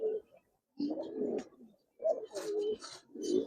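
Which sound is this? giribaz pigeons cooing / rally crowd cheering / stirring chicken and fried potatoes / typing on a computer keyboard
giribaz pigeons cooing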